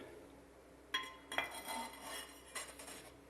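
Ceramic tiles set into freshly combed adhesive, a few sharp clinking taps and gritty scraping pushes as each tile is worked up and down, close and fairly quiet.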